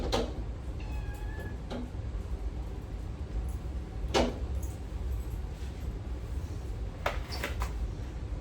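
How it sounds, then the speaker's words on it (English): Cat meowing in a kitchen near a refrigerator: a few faint, short meows scattered over steady background hum, along with soft clicks and knocks. "Cats you can't get in the refrigerator, man."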